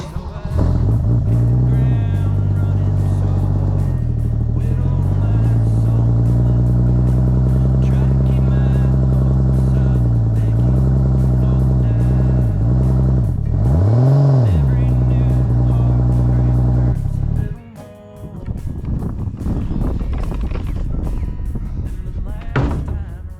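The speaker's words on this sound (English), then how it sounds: "Let's start it up and see if she'll go into gear first of all" Engine of a 1961 Comet, revived after sitting for 37 years, starting and running: a loud, close, steady low rumble with rising and falling revs, then a clatter and a rougher stretch near the end.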